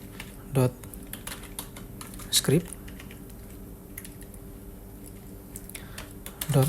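Sparse, quiet taps on a computer keyboard as a command is entered, over a low steady hum, broken by a few short bursts of voice.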